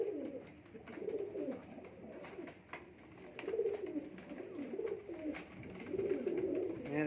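Pigeons coo on a rooftop, soft low rolling calls repeating in overlapping bursts from several birds nearby, with faint background noise.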